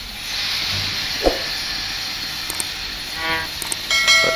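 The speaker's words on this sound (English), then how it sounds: "That's just me messing with the locomotive." A PRR S1 steam locomotive in Train Simulator, fiddled with while standing: a steady hiss of escaping steam with a few clanks and knocks and a brief rising chuff of exhaust.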